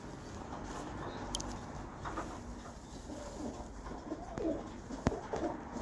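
A plain female pigeon coos softly in a breeder's loft, low, throaty calls repeating at a moderate distance over quiet background noise.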